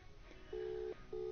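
A phone places a call, with a faint low ringback tone sounding in two long, steady pulses against a quiet hiss.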